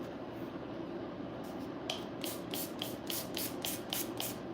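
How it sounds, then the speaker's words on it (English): Repeated short hissing bursts from an aerosol can of holding spray applied to hair, about eight quick sprays in a fast, uneven rhythm, close and fairly quiet over faint room noise. "I'm about to spray this with some holding spray."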